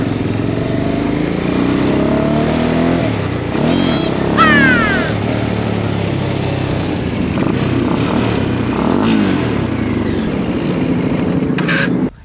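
Bajaj Dominar 400 motorcycle fitted with an SC Project exhaust, catalytic converter still in place, revving loudly and close by, with sharp rising throttle blips over a steady rumbling idle.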